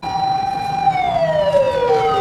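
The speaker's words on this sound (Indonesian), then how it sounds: "Susi dibuat penasaran dengan bunyi alarm dari petugas damkar" A fire truck siren wails steadily, its tone holding then sliding lower as the truck passes, loud and continuous over faint road rumble, with no voices.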